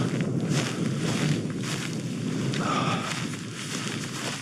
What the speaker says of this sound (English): You might be able to tell by audio, there's a little bit more wind today.